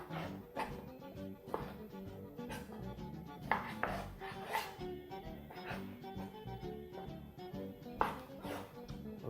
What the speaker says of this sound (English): once your beef is all chopped up